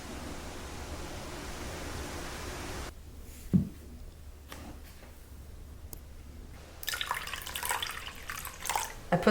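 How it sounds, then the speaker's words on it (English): Water poured into white paint to thin it, a soft running trickle and drips with a brief splash, followed by a louder burst of splashing and sloshing toward the end. "I put some water in here to dilute the pigment of the white."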